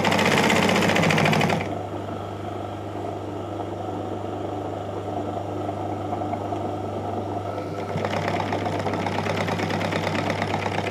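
A sewing machine runs while stitching a side pocket seam, giving a steady mechanical whir with a constant low hum. It is louder and busier at the start and again near the end, with no talk.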